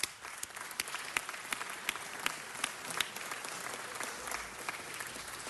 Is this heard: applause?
yes